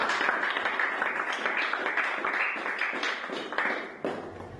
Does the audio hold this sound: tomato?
no